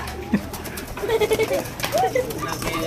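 Pigeons in a pigeon house give soft, low coos against a busy outdoor background, with a brief voice heard nearby.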